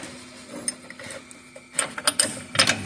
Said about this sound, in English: And then I'll get my little breaker bar in there.